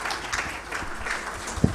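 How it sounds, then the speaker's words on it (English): An audience applauds panelists at a high-level policy dialogue, a short steady patter of many hands clapping in a hall, with a single sharp knock near the end. "Round of applause for my panelists."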